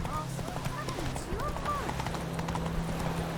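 Roach the horse gallops in The Witcher 3, with rhythmic hoofbeats running continuously beneath game music and a voice speaking over it.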